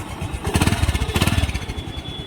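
The rebuilt engine of a Honda Activa scooter runs close by with a steady, pulsing putter, rising briefly in two louder bursts of revving before settling back to a smooth, even idle.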